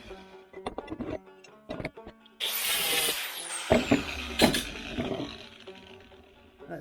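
Angle grinder on metal while building a homemade cargo carrier rack: a loud sustained harsh whine with gritty noise and scattered knocks and clanks, sounding close and trailing off at the end.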